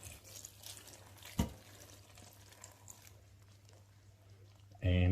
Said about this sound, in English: Need now water with a juice of 1 lemon, and we pour that